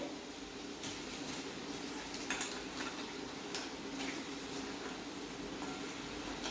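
Crabs go into a pan of salted onions for Goan Saraswat-style crab masala over a lowered flame, giving a steady soft sizzle with occasional light clinks of utensils against the pan.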